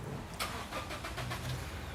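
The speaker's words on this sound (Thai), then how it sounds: "เดี๋ยวเรามาฟังเสียงเครื่องยนต์กันก่อนดีกว่า" A pickup truck engine cranks with a rapid rhythmic starter chug, catches on the first try and settles into a steady mid-pitched idle, close and fairly loud.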